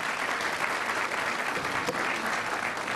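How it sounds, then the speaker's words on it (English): Sustained applause from an audience at a United Way campaign award ceremony as aviation department recipients come forward, dense even clapping throughout with a faint voice underneath. "give everybody give them a round of applause"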